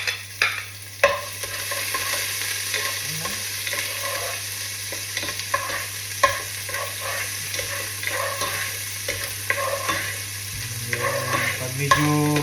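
Garlic sautés in a pan with a steady, close sizzle. Repeated scraping and clanking from stirring runs throughout, and a steady low hum sits underneath.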